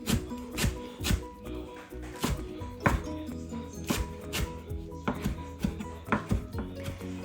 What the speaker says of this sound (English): So I'm gonna cut a whole bunch of cilantro